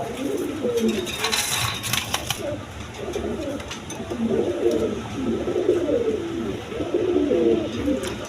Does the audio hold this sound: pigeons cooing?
yes